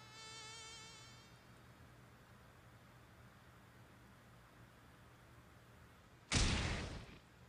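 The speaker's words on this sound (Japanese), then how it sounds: "Z 氏に大量の蚊の群れが集まっています。" A swarm of mosquitoes buzzing in One Punch Man, a steady high whine with stacked harmonics that is strongest at the start and then thins into a low hum, before a loud, sudden burst of noise near the end.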